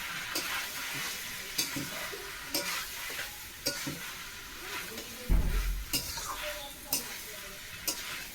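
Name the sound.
jackfruit frying with spices in a pan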